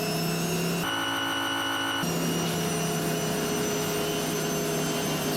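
A modded Battle Truck in American Truck Simulator revs at about 4,000 rpm, its engine drone and whistling turbo steady and loud throughout, with a tonal shift for a second near the start.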